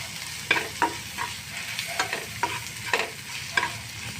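Sliced onions fry in a pan with turmeric, chili powder and salt for an eggplant and river jatka fish fry, giving a steady close sizzle punctuated by sharp spatula scrapes and clicks at irregular intervals.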